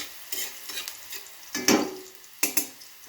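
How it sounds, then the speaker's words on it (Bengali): Onions being stirred in a hot pan during a Bengali fish curry preparation, giving short scraping, sizzling bursts in three separate strokes, close and moderately loud. "দেখুন পেঁয়াজটা আমার সুন্দর ভাজা হয়ে গেছে"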